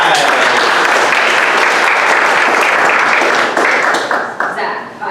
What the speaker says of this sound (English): Let's have a round of applause for Two Teenage Spies.